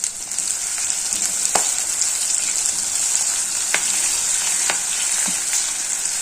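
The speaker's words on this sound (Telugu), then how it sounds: "ఆనియన్స్ అండి, కట్ చేసి పెట్టుకున్న ఆనియన్స్ వేసి వేయించుకోవాలి." Chopped onions with a pinch of asafoetida fry in a pan with a steady, loud sizzle, broken by a few sharp crackles and pops, and no voices.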